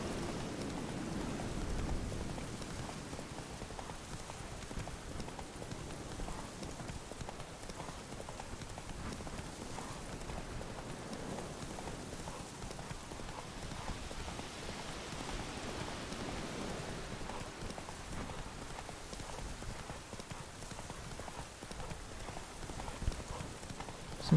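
Horse hooves clip-clop steadily through rain in The Witcher 3 video game, a faint continuous trotting rhythm under a hiss of rainfall that lasts throughout.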